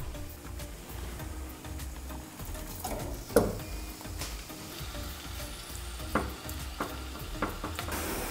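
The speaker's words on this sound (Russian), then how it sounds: "Добавляю в одну сковороду растительное масло и обжаривать будем мясо. А в другую мы готовим грибы." Meat and mushrooms frying in vegetable oil in two pans, a steady close sizzle with occasional sharper pops and utensil clicks throughout.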